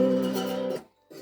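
Slide guitar in open G tuning plays a single sustained note with exaggerated, warbling vibrato for under a second. It fades out, and another note begins right after.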